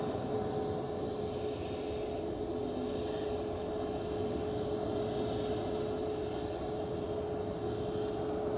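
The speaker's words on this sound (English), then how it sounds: "once we've rotated this EasyJet off to the heavens" EasyJet airliner taking off at Edinburgh airport, a steady distant jet roar with a broad rumble and a faint sustained tone, fairly quiet and unbroken, with no talk over it.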